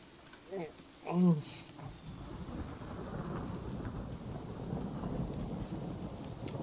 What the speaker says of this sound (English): Is that thunderstorm I smell?